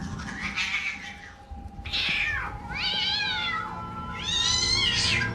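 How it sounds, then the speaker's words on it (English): A cat's drawn-out, wailing meows and caterwauls, replayed by a Chucky doll in a horror film, come in three rising, strained cries of increasing loudness over a faint background hum. "Hearing Chucky replay the cat's death wails is deeply disturbing"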